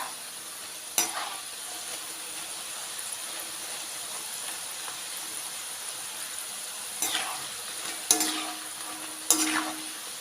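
Pieces of dough for a dimon recipe frying in hot oil, making a soft continuous sizzle, with a few sharp scraping clatters of a utensil stirring or lifting the pieces.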